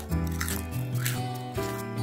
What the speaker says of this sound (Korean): 김부각 바삭한 소리 한번 들어보세요